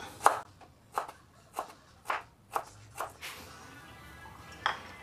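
Ginger being sliced lengthwise with a knife on a cutting board, seven crisp separate knocks at uneven spacing, close and clear, with a short gap before the final cut.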